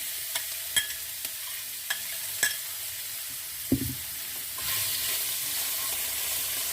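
Seasoning stirred into hot oil in a pan with the gas off, a series of light spoon taps and scrapes over a soft hiss that swells into steady sizzling toward the end.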